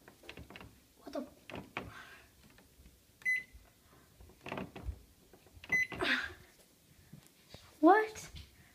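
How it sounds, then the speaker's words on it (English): A microwave oven is handled while making popcorn: keypad beeps, a door shutting and a short electronic tone, with people talking throughout between the clunks. "And then shut the microwave."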